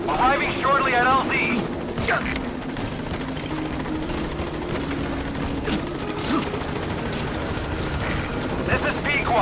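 Support helicopter from a military stealth video game arriving at the landing zone, a steady rotor drone holding loud throughout with brief radio chatter and interface blips over it.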